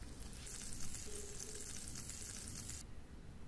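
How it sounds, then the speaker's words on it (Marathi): A hot tadka of curry leaves and dried red chili pieces in oil poured over coconut chutney, a close, steady sizzling hiss that cuts off abruptly near the end. "हा तडका चटणीवर ओतूया."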